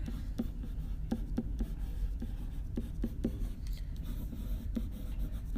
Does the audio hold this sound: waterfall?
no